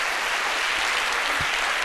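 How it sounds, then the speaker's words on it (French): A studio audience on a French midday television show applauds steadily and densely for about two seconds, a broad, even wash of many hands clapping with no voices over it. "on va les raccompagner donc toujours avec des applaudissements"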